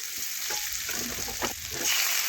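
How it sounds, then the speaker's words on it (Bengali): Chopped onion frying in oil and being stirred until soft for a spicy tangra fish dish, a steady close sizzle with soft scraping stir strokes throughout. "এই দেখুন এইভাবে নাড়াচাড়া করে পেঁয়াজ একটু নরম হয়ে যাওয়া পর্যন্ত আমি ভেজে নিচ্ছি।"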